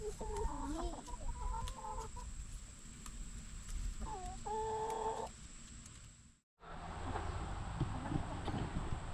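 A backyard flock of hens with a newly introduced rooster clucks and calls close by, with a few distinct drawn-out squawks over a steady outdoor hum and a brief dropout near the end.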